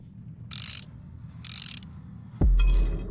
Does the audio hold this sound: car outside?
no